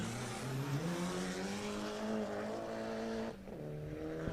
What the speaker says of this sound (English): Deep on the brakes, up to the spectator corner and throws it in.